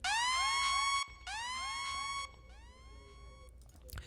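Kill Bill wailing siren sound effect in a mumble trap beat, rising and falling sweeps repeated in chopped bursts with a stutter effect and reverb tail.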